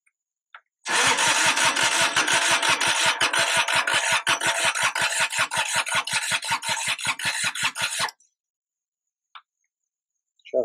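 A Kubota G5200 tractor, left sitting for years, cranks with a fast steady chugging of the starter for about seven seconds, loud and close, then stops abruptly into silence with a few faint knocks after.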